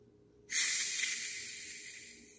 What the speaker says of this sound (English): Cause see it's fizzing right now.